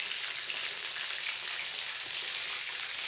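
Dried catfish fries in hot oil in a home kitchen in Malaysia, giving a steady, even, hissing sizzle that stays close and constant, with no talking.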